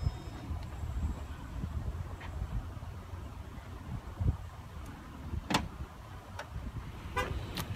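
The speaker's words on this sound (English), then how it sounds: "There's the close button for the trunk." The power liftgate of a 2015 Ford Explorer Limited closes, with faint motor whirring, a few sharp beeps and a latching click, all quiet against low ambient noise.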